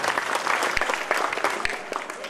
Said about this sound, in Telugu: ఒకసారి గట్టిగా చప్పట్లతో మన అభివాదాలు తెలియజేయండి.